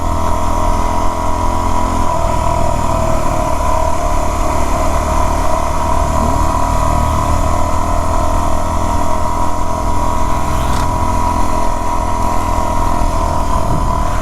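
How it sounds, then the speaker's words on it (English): Motorcycles pass on a mountain road on Grand Mesa, heard from another rider's WR250R. A loud, steady engine and wind roar dominates throughout, with a brief swell as the oncoming bikes go by. "Comes our motorcycle friends coming the other way."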